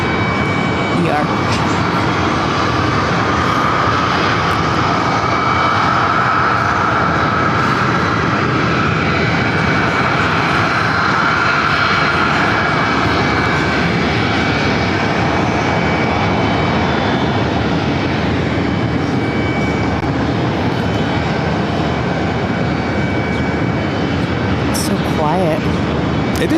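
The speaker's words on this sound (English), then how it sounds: "Another London Heathrow, American 777-300 ER." An American Airlines Boeing 777-300ER jet at JFK airport makes a loud, sustained engine roar that holds steady throughout, with people talking over it.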